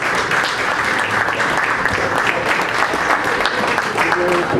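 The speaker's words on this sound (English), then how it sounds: "Let's give them a round of applause." Banquet guests at a Rotary Club anniversary and installation dinner applaud the current club presidents: continuous, dense clapping from a large room, loud and steady, with some crowd murmur mixed in.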